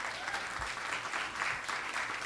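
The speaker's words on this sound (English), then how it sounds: "So please give them a round of applause." A crowd at a town hall meeting claps continuously, a dense, even patter of many hands that fills the whole moment with no voices on top.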